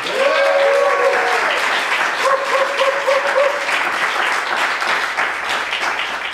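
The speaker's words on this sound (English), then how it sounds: "Please give a round of applause for Timucua Arts." An audience applauds loudly for Timucua Arts at a June community arts event, dense clapping with cheers and whoops rising over it before slowly thinning out.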